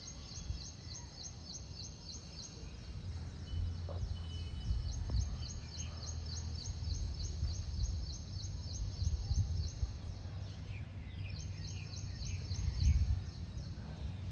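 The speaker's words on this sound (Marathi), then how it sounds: "पक्षी पण आनंदात आहेत, त्यांना चारा पाणी मिळणार म्हणून. त्यांचे सुद्धा असे छान आवाज कानावरती येत आहेत." Birds chirp and call steadily in a garden after rain, a repeated high twittering that runs almost the whole time over a low background rumble, moderately close but not loud.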